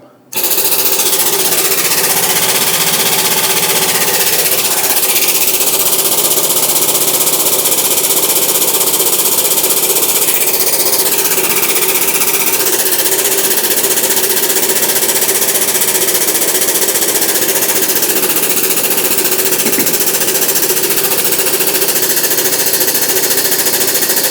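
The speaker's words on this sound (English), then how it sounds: "you can hear the air system moving around" A loud, continuous mechanical hiss and hum from an air jack's airbags inflating to lift heavy machinery, dense and close, with slight shifts in pitch over time.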